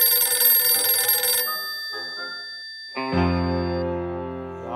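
A telephone rings with a dense, bright electronic ringtone that cuts off. A sustained buzzy tone then takes over, loud and steady, with no voices.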